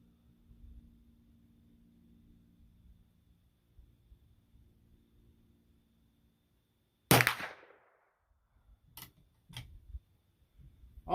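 Sharp gunshots from a rifle firing .25 Stevens centerfire cartridges: one loud crack with a short decaying tail after a quiet stretch, then a few fainter clicks and knocks from handling.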